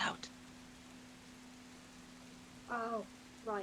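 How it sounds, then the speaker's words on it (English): Rain ambience from a tabletop audio playlist, a faint steady hiss of falling rain with a low hum, under brief bursts of talk. "Rain's too loud."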